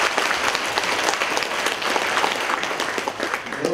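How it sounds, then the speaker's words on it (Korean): Attendees at a public deliberation forum in Changwon, South Korea, about a proposed Starfield mall, clap warmly together: continuous, fairly loud applause from a crowded hall that holds steady throughout without talk over it. "집중해서 뜨겁게 박수 한 번만 할까요?"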